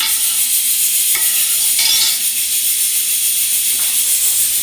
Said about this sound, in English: saute your onions and the other vegetables you're going to be using